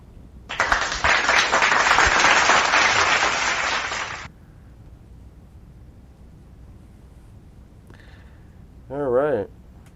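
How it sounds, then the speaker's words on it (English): A burst of dense applause and clapping rises quickly, holds for about four seconds, then stops abruptly; a brief voice follows afterward. "Let's give a big shout out, applause to them."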